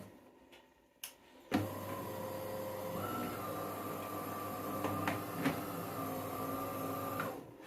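A coffee machine running off a power inverter that cuts out near 950 watts, working erratically: a steady electrical hum and drone starts after a couple of soft clicks, with a few sharp ticks and knocks over the running tone.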